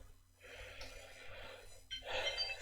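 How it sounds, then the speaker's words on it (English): An alarm goes off indoors, a faint electronic tone sounding in two bursts with a brief pause between, quiet and somewhat distant. "I just had an alarm go off."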